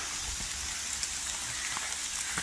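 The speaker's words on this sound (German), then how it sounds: "und es regnet noch immer" Rain falls steadily on a forest path along the coastal Portuguese Camino, an even close hiss of drops with a few sharper patters and no voices.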